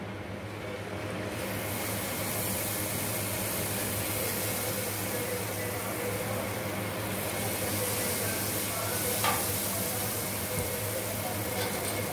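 Jalebi frying in hot oil gives a steady, dense sizzle and bubbling hiss that runs unbroken throughout, close and fairly loud.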